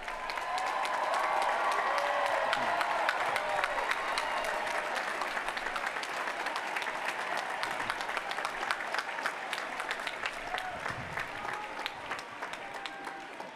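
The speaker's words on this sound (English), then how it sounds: "Will those who are graduating early please stand so we can give you a well-deserved round of applause." Sustained applause from a large graduation audience honoring early graduates at a university final exercises ceremony, swelling quickly then tapering slightly over many seconds, with a brief murmur of voices early on.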